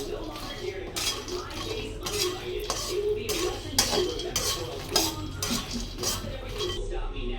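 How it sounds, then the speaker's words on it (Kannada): Makhana (fox nuts) roasting in a pan while being stirred, giving a steady series of close metallic scrapes and clinks of a utensil against the pan, repeating roughly every second with no talking. "ಸೊ ಇವಾಗ ಚೆನ್ನಾಗಿ ಹುರಿಯೋಣ."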